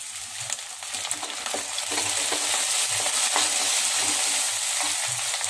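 Mint leaves added to softened onions and three green chilies for mushroom biryani, frying in a pan with a continuous loud sizzle and steady stirring scrapes, close up and without talking.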